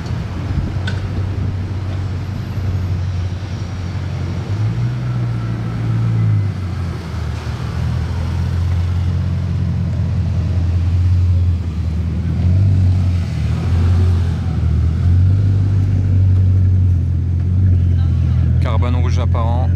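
Bugatti supercars, including a Veyron, Chiron and Mistral, rumble low and steady through the streets of Monaco at an event, a constant engine drone with swells in pitch, under nearby talk.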